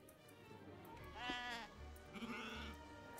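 Sheep bleat in Age of Empires 3, two wavering calls a moment apart, faint and nearby over low game ambience, no voices over them.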